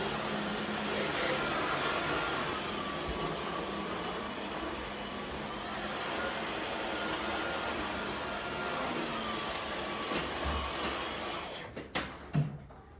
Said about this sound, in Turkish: O yüzden yüzey başlığıyla süpürüyorum